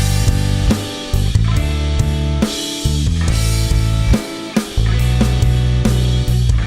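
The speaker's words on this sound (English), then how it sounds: "And my right channel is doing half note strum chords." Electric rhythm guitar strumming half-note chords, each sustained chord ringing for about two beats before the next strum, steady and full with no voices.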